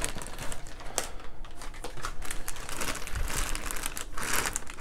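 Close-up crinkling and rustling of a plastic bag while a product is unboxed, a busy continuous crackle with sharp crunchy bursts and no speech.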